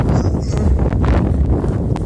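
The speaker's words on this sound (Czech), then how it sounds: "Ah, vítr." Gusts of wind batter the microphone outdoors in the Krkonoše mountains, producing a loud, low rumble and buffeting with brief rustling bursts, and no clear voices.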